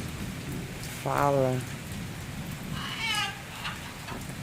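Steady rain falls throughout over broadband hiss, while high-pitched animal cries, likely kittens, rise twice above it and a voice speaks briefly.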